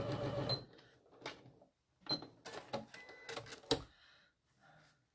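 Sewing machine stitching a mini bag in short bursts of rapid clatter, with pauses and a few sharp clicks between runs, heard up close.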